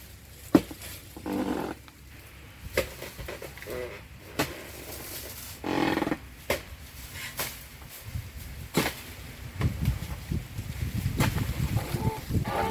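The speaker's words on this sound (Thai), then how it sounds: "ลมค่อนข้างแรงครับวันนี้นะครับ" Strong gusts of wind buffet the microphone at a palm plantation during palm fruit harvesting, rising and falling in rough, uneven surges over a steady outdoor background.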